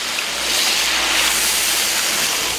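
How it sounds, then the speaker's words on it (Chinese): Clear water poured into a hot wok used for spicy boiled fish, a steady broad rushing splash close up and fairly loud, with no talking. "倒入清水"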